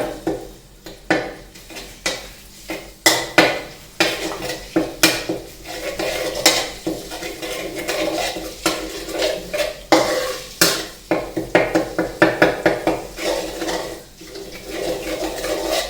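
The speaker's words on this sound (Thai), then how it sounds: "ใส่น้ำมันลงไปก่อนนะครับ ตอนแรก น้ำมันแล้วก็ตามด้วยพริกแกงนะฮะที่เราเตรียมไว้ครับ คั่วพริกแกงให้หอมนะครับ" Red curry paste stir-fried in oil in a pan for a red pork sauce, with a spatula scraping and clattering against the pan in rapid, uneven strokes over a light sizzle.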